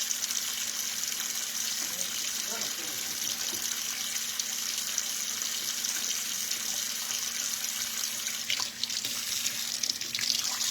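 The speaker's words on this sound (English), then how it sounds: "Let me wash this pork chop" Steady running water from a kitchen tap over a pork chop being washed in the sink, a continuous close hiss with faint splashes and clinks, no talking.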